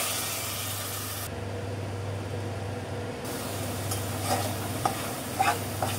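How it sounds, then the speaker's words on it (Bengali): Potatoes being stir-fried in a pan at home, with a steady low sizzle and occasional scraping stirs and light clinks near the end, close and moderately quiet. "আলুটা একটু কষাই নিলাম"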